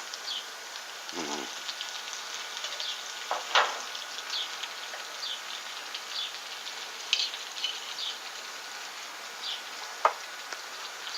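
Cod fillets fry in a pan with garlic butter ginger sauce spooned on top, giving a soft steady sizzle with a few sharp pops and utensil taps, and a voice speaks briefly over it.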